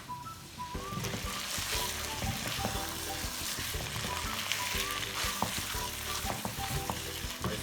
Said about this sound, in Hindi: कितनी देर तक इसका फ्राई करते रहेंगे? 4 से 5 मिनट लगेंगे।